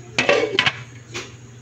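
Metal lid set onto a cooking pot of simmering tilapia stew with pepper and bay leaf, two close clinks in quick succession followed by a third lighter clink, over a low steady hum.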